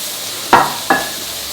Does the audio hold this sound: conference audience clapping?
no